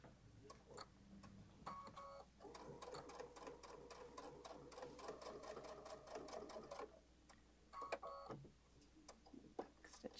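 A sewing machine stitches a messenger bag with quiet, steady rapid clatter in several runs, broken by short pauses and faint clicks, heard alone at low level.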